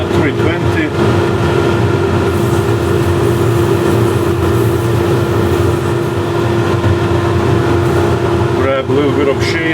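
A wood lathe spins a turned wood piece as it is sanded with 320 grit, giving a steady, loud whirring rumble that runs without a break, with a voice talking over it.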